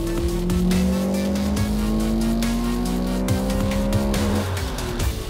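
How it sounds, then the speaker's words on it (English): A Honda Civic Type R with a VTEC engine screams along the Spa-Francorchamps race track, loud rising revs through gear changes and a brief tire squeal, close and continuous. "You go on the track with a Honda Civic Type R"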